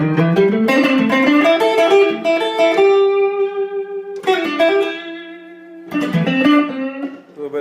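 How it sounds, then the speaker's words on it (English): A circa 2007 Eastwood Delta 6 electric guitar with P90 pickups, tone and volume fully up, rings out loud, mellow chords, each strum sustaining and decaying before the next, three strums in all. "This is pure P90. Tones all the way up. Volumes all the way up."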